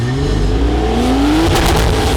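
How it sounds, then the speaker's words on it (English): A JDM-style car with a Kakamoto exhaust revs hard, its engine note climbing steadily in pitch through a loud, raspy, continuous rise, close to the listener with no talk. "So the Kakamoto exhaust is a JDM exhaust in its full essence."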